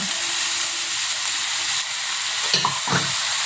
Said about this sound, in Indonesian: Kita aduk rata ya